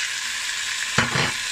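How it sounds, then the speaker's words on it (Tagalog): Marinated chicken drops into a pan with garlic, onion and ginger for a Chinese-style dish: a soft background sizzle, then a sudden louder burst of frying as the pieces hit the hot oil. "Tapos ngayon, ilalagay ko itong marinated chicken."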